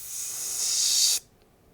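Cats hiss as a sound effect in a children's story reading, one sustained sharp, breathy hiss that swells and then cuts off abruptly, close and loud, with no talking over it.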